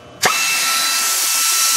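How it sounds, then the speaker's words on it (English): A power drill fitted with a 1/8 inch bit bores a pilot hole into a Chevy Silverado Duramax truck frame, starting abruptly and then holding a loud, steady, high whine close by with no voices. "we're going to go ahead and drill our pilot hole with a 1/8 inch drill bit"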